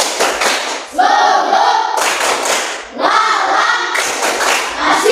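A classroom of standing pupils claps together in a patterned spirit clap, quick bursts of hand claps alternating with short shouted chants, loud and close, repeating in roughly two-second cycles.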